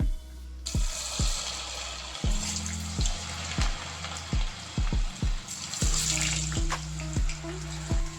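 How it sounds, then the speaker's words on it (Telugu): Gobi (cauliflower) pieces deep frying in hot oil, a broad hissing sizzle with repeated low thuds and clinks as pieces are dropped in one after another, no one talking. "ఇప్పుడు గోబీని అయితే ఫ్రై చేసుకుందాము"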